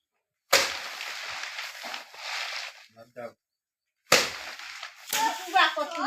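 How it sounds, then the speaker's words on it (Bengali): Paddy rice is beaten by hand to thresh the grain: two sharp, loud strikes a few seconds apart, each trailing into a rustling wash of stalks, with voices briefly audible near the end. "ধান মারছি ধান মারছি"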